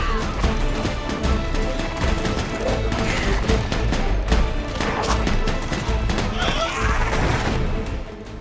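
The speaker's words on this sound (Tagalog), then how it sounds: "Sa walang tigil na putok ni Deadshot, walang nagawa ang mga halimaw." Dense, continuous gunfire in a film fills the clip with overlapping bursts and crashes, loud and chaotic throughout with no pauses.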